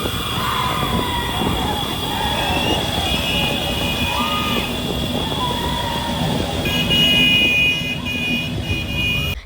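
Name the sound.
vehicle horns honking on a street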